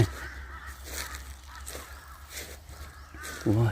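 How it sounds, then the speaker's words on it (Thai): Several crows caw repeatedly at a distance over steady outdoor background noise, their harsh calls overlapping in loose, irregular bursts, at Prasat Yai Ngao temple ruins in Sangkha district, Surin province, Thailand. "อีกาเยอะมากเลยนกกา"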